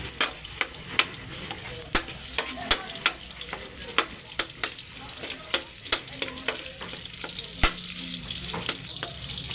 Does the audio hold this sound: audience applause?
no